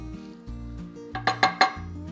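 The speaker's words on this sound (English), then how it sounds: "you're gonna stir a little bit more" Vegan coleslaw with raisins stirred in a bowl, a quick run of four bright clinks of a utensil against the dish over quiet background music.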